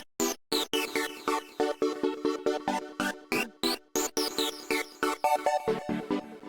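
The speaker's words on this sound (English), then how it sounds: "I added these stab notes right here" Synth stab notes in a futuristic trap beat, short punchy chord hits in a quick syncopated rhythm with sharp attacks and brief decays, loud and alone.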